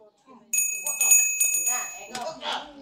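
A bright bell sound effect rings out on a Filipino live stream, repeated chimes with sustained metallic tones while someone talks over it.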